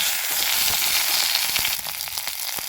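Okra curry with onions and tomatoes sizzles steadily in a hot pan, a dense, close frying hiss with scattered crackles and pops throughout, no voices.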